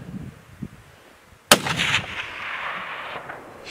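A single loud, sharp rifle shot fired while hunting mule deer in snowy Arizona mountain country, cracking suddenly after near-silence and trailing off in a long outdoor echo.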